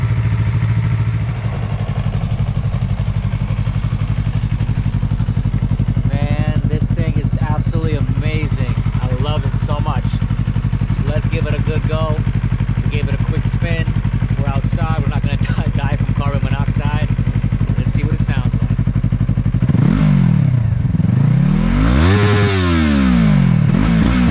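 A Yamaha MT-03 engine fitted with a Yoshimura Alpha T aftermarket exhaust idles steadily, then is revved hard twice near the end, the exhaust note rising and falling sharply with a raspy, deep tone.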